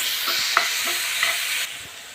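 Vegetables fry in a pan with a light, even sizzle, punctuated by a couple of brief stirring knocks before the hiss softens.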